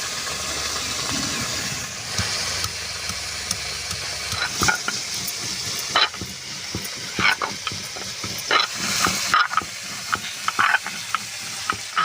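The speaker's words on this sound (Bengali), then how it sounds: "ভেন্ডিটা দিকে ভাজা হতে থাকুক" Okra (bhindi) frying in a pan, a continuous close sizzle and hiss with frequent clicks and scrapes of stirring across the whole stretch.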